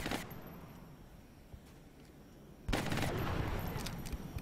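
Gunfire in a turn-based strategy video game about a landed large UFO mission: a quiet stretch with a few faint pops, then a sudden loud sustained burst of automatic fire.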